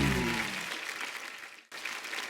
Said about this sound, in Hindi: और जो हमारे असली शायर हैं उनके लिए दिल खोल के तालियां